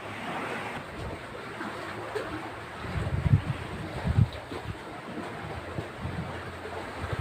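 Ocean waves wash and rumble steadily in the distance, with soft swells and wind noise brushing the microphone.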